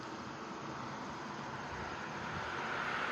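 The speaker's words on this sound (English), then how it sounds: "Got an airplane coming." An airplane passes overhead at night in rural Garretson, South Dakota, a faint steady broadband roar that slowly swells, heard alone with no talk.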